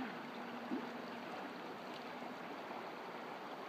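Big Sur River stream flowing outdoors, a steady broadband rush of moving water with no gaps, fairly close and even throughout.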